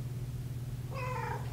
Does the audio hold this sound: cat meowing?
yes